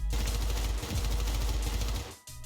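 Rapid automatic gunfire in the Syndicate video game, a dense continuous burst of loud shots with a brief break near the end before firing resumes, no voices.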